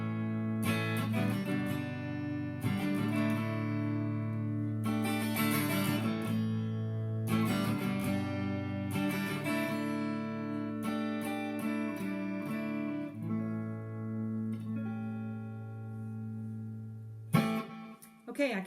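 Electric guitar through a Helix preset with a US Double Norm amp model and a simple delay set low in the mix, heard as sustained, fairly clean chords and ringing notes with soft repeats trailing each phrase.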